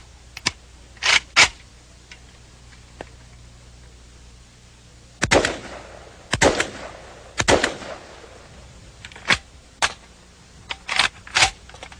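A semi-automatic firearm fires single sharp shots, one round per trigger pull, irregularly spaced in small groups with quiet gaps between them, close and loud.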